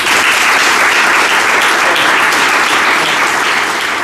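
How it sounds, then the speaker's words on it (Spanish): Loud, dense applause fills the hall after a history lecture on Santa Marina de Torre, an even wash of many people clapping that holds steady and eases slightly at the end. "Así que un aplauso para ellos"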